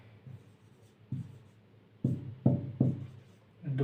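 Chalk or marker strokes on a classroom board, a series of scratchy bursts of varying length, close and fairly loud, with no speech.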